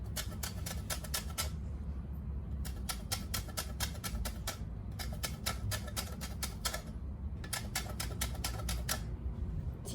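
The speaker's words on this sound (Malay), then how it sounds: "korang zest kat dalam whipping cream ni, ambil sikit" Orange peel being zested into whipping cream, a rapid rhythmic scraping in repeated bursts of quick strokes separated by brief pauses, close and fairly quiet with no talk.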